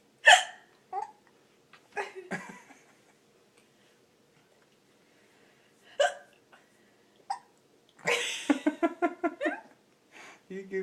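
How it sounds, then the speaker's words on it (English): A small child hiccups in short, sharp repeated bursts, close and clear, mixed with brief laughter and soft vocal sounds between quiet gaps. "Now you got the hiccups."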